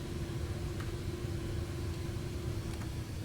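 Antonov An-225 jet engines run at full thrust in a flight simulator game, a steady, fairly faint low roar with a constant hum and no change in level across a few seconds.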